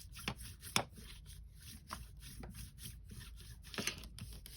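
A surface is rubbed down by hand in close, soft, scratchy strokes, with a few sharper taps and scrapes breaking up the steady rubbing and no voices.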